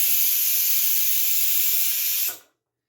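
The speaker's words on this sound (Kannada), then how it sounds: "ನೋಡಿ, ಇವಾಗ ವಿಷಿಲ್ ಬರ್ತಾ ಇದೆ." A pressure cooker of lentils and tomato lets out a loud, continuous steam whistle, hissing steadily at close range before cutting off abruptly near the end.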